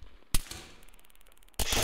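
Gunfire in Arma 3 Altis Life, one sharp loud shot early and then a dense burst of shots near the end, with a quieter rattling stretch between them and no speech.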